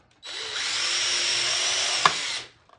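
Small power drill boring a hole into a plastic cassette tape shell, a steady high whine for about two seconds with a sharp click near the end before it stops.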